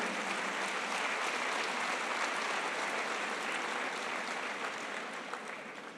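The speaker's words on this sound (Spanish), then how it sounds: "¿Qué tal si le da palmas al Señor?" A church congregation claps together in a continuous, even burst of applause, fairly distant and filling the hall, tapering slightly at the end with no speech over it.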